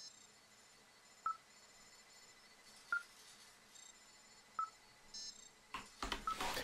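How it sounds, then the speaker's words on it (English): Beeping tracking device in the Firewatch video game, sharp electronic beeps repeating at roughly one-and-a-half-second intervals over quiet ambience, followed by a louder rustling burst near the end. "it literally says follow the beeping device"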